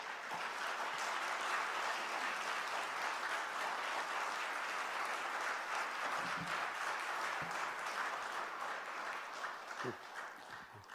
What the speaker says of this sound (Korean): 우리 목사님이 나오실 때 여러분 함께 축복하는 마음으로, 환영하는 마음으로 큰 박수로 맞아주시면 감사하겠습니다.